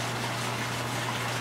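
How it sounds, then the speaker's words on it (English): Water drains from a greenhouse aquaponics grow bed into a fish tank through a small waterfall, giving a steady, even rushing gush that holds constant at moderate loudness throughout. "Little waterfall, and then that drains down into the fish tank."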